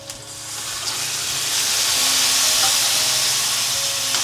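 Spices for a mandeli fish curry temper in hot oil in a pan on a gas stove, giving a continuous close sizzle that swells and holds steady, with no one speaking.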